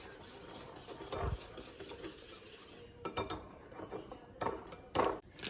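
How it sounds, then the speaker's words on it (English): Dry ingredients for red velvet cookie dough, baking soda and salt, are whisked in a bowl, with soft scraping and several sharp metallic clinks and taps at close range. "baking soda, and then a little pinch of salt, just like that. We're gonna whisk that together."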